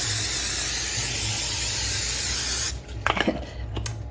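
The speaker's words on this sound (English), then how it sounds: "I'm gonna go ahead and hit it with a little bit of more of that cooking spray" Cooking spray hisses steadily and loudly from a can onto diced potatoes for a few seconds, then stops, followed by light clattering and scraping sounds close by.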